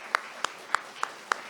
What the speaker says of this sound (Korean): 여러분 제 말이 맞다고 생각하면 박수를 한번 크게 부탁합니다